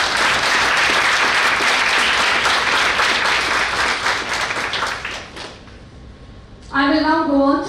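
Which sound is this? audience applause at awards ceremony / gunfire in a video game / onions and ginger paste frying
audience applause at awards ceremony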